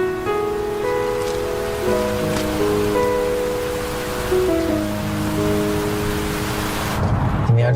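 Steady rain falls throughout, a dense even hiss under a soft melodic music bed, with no voices.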